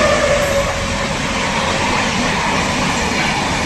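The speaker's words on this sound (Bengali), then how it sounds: "এবার আসছে হাওড়া বার্মা সুপারফাস্ট এক্সপ্রেস। দেখুন স্পিড দেখুন।" The Howrah–Barmer Superfast Express passing at high speed, a loud continuous roar of wheels and rushing wagons close by, with a faint metallic squeal early on.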